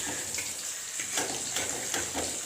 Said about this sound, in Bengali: দইটা দিয়ে ভালো করে কষিয়ে নেব এইভাবে ভালো করে কষাতে হবে